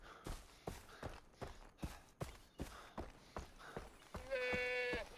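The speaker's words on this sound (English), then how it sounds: "There's a goat." Goat bleating in the video game Far Cry 3, a short harmonic bleat near the end following a series of regular thumping footsteps, fairly close and clear with no talk over it.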